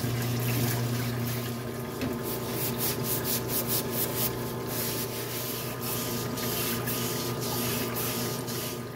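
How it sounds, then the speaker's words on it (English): A parts washer cleans Mercedes suspension housings from a 1985 300SD, with a steady hissing spray of solvent over a constant pump hum and brief scrubbing bursts, nearby and continuous with no talking. "let's get our housings in the parts washer and get everything cleaned up"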